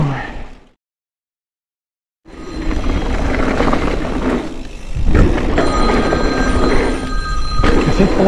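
A mobile phone rings during a mountain bike outing on local trails, a steady repeating ringtone with sustained tonal lines heard up close over rustling handling and wind noise after a brief silent gap.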